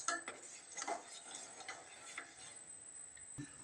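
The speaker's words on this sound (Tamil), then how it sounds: "சாக்லேட் கரையிற வரைக்கும் நம்ம மிக்ஸ் பண்ணிட்டே இருக்கணும்." A spoon stirs chocolate coffee in a cup, giving a faint, steady run of light clinks and scrapes against the cup's sides, quiet and close, with a sharper tap near the end.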